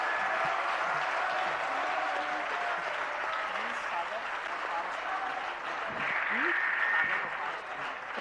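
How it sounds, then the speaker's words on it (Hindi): An audience at a Jain religious discourse gathering applauds loudly and steadily, the sustained clapping filling the hall while a voice speaks over it. "जोरदार तालियां दोनों के लिए।"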